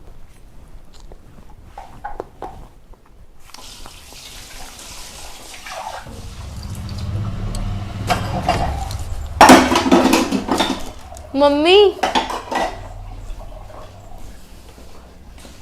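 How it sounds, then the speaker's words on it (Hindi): Breakfast dishes being washed at home, with running water, clinking pots and cutlery in bursts that grow busier midway, alongside a brief voice. "बस नाश्ते के बर्तन कर रही थी।"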